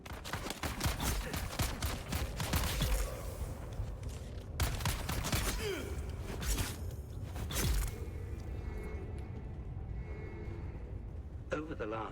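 Bursts of rapid gunfire and whooshes fill a video game firefight, dense and continuous for most of the stretch, while a player talks over the top.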